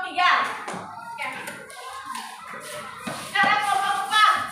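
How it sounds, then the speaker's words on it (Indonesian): Children in a classroom clap for group 3, a few brief bursts of hand claps mixed with shuffling and kids' voices, moderately loud and close. "kasih tepuk tangan dulu buat kelompok 3"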